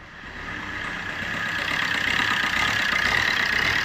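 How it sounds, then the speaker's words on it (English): A car engine needing new heater plugs idles steadily close up, a continuous rough hum that grows slightly louder and settles, with no voices over it. "Forget about the noise of the engine."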